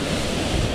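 Ocean waves breaking at the shore during sea fishing make a steady, loud broadband wash with no pause, mixed with wind rumble.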